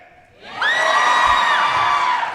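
A convention panel crowd bursts into loud, sustained cheering and whooping that swells quickly and holds steady, with shrill voices rising above the roar.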